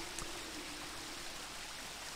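Faint, steady rush of flowing water in the video game Indiana Jones and the Infernal Machine, a soft continuous trickle with no voices, quiet and unbroken.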